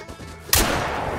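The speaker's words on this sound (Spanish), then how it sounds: "Venga, otro disparo." A single rifle shot rings out on a red deer hunt at Te Awaroa in the video game theHunter Call of the Wild. It is a sudden, loud report, and its rumbling tail fades slowly into the background ambience.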